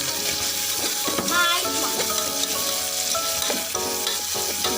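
Onions frying in a pan while bisibele bath is cooked, a steady close sizzle with stirring scrapes running through the whole stretch.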